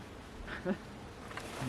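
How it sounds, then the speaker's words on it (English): Honeybees fly around the front entrance of a beehive during a hive inspection, making a soft, close buzzing with a brief louder pass midway. "look at the front entrance. Look at what the bees are doing."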